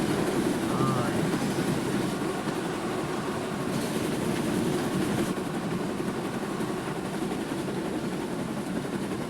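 A train from the Thomas & Friends video game Wonders of Sodor runs with a continuous rumbling rail roar and faint clatter, with a voice talking over it.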